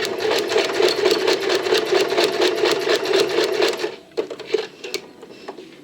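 A sewing machine stitches a vest lining in a fast, even run of needle strokes for about four seconds, close and loud, then slows to a few scattered stops and starts.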